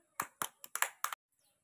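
Children clap their hands in a short, uneven burst of about five claps, close and fairly soft, followed by quiet.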